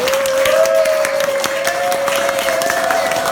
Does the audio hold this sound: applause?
yes